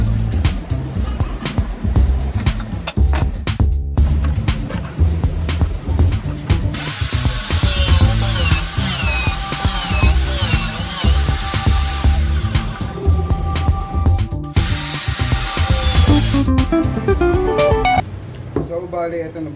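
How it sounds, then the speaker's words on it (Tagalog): A power drill with a small bit whines and grinds while marking a workpiece for a homemade disc sander, running loud in sustained bursts with brief pauses and speed changes. "Then I'm going to make a mark using this small drill bit."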